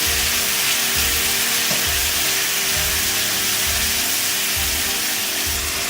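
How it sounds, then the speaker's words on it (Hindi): Marinated chicken frying in a hot pan for shawarma, a steady, loud, close sizzle with a constant hiss and occasional low stirring thumps, no voices. "अब हम मैरिनेशन किया हुआ जो हमारा चिकन है उसको ऐड करेंगे। इसको अच्छे तरीके से हम भून लेंगे।"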